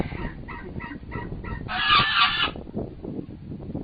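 Geese honking close by, a quick run of rhythmic nasal honks followed by a louder, longer burst of honking, with no talk over it.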